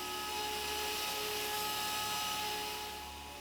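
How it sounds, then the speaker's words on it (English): A CNC mill cuts a 3mm aluminum sheet with a 4mm flat end mill, giving a steady high whine with sustained tonal lines over a constant machine hum, fairly quiet and unbroken. "I used a 4mm flat end mill for contour."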